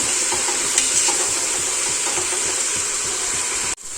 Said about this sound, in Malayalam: നന്നായിട്ടൊന്നും കൂടെ ഇളക്കി യോജിപ്പിക്കാം ഇത് സവാള ഒന്ന് വാടി വരാൻ വേണ്ടി വെയിറ്റ് ചെയ്യാം